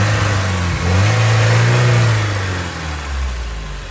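A Porsche 924S engine runs smoothly after a misfire repair, a loud, close, steady engine drone that rises slightly as the car pulls away and then settles, continuous throughout with no talking.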